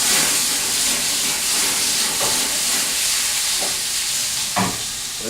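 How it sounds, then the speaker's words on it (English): Chicken sizzles and hisses steadily in a pan over very high heat, close and loud, with occasional soft clinks and stirring sounds; no talking. "Remember, we are frying this at very high heat."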